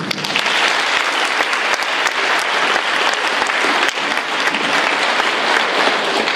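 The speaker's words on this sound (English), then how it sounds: "give a big round of applause to our EOC people" A big round of applause at a public wildfire meeting in 2015, a loud, dense, continuous clapping from a crowd that stays full and steady throughout, with no talking.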